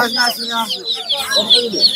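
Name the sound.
broiler chicken chicks at a market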